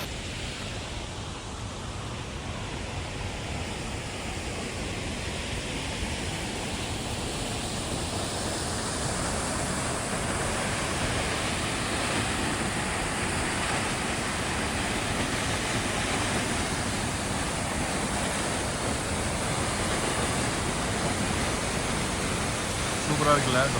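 Bridal Veil waterfall in New Zealand, swollen and muddy from rain, roars as a steady, dense rush of falling water that stays loud and even throughout.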